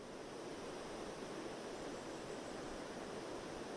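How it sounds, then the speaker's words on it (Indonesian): Fast-flowing river water on Mount Pangrango roars as an unbroken, even rush, moderately loud and steady throughout with no voices over it. "Aliran sungai dengan air yang deras."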